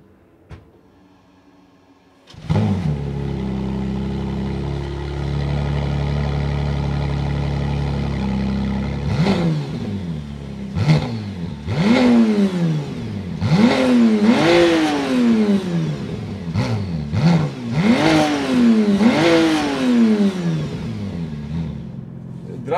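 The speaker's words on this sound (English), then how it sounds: "Let's listen to the exhaust note before going for a spin." A McLaren Artura sits quiet, then its engine fires and settles into a steady idle before a series of sharp, rising revs blips loud and close, each falling back quickly.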